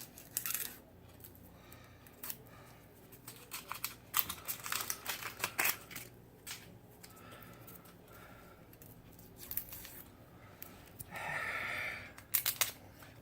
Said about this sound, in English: peel and cut the onion into thin slices